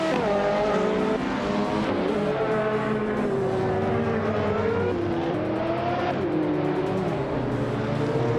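Race cars speed off the starting line, their engines revving with rising and falling whines. A dense roar of several cars stays loud and close throughout.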